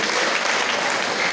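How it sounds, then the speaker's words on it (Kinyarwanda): Loud, sustained applause fills a wedding ceremony, a dense, steady wash of many hands clapping without pause from start to finish. "Amashyi menshi cyane"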